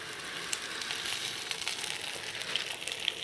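Vermicelli frying in hot oil for Egyptian koshari, a steady close hiss and sizzle with small crackles throughout and no talking.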